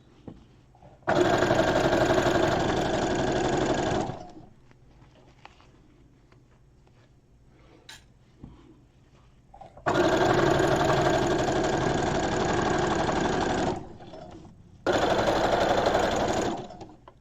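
A sewing machine stitches the fabric of an 18 inch doll dress in three loud, steady runs, the motor humming continuously for several seconds each time with quiet pauses between bursts.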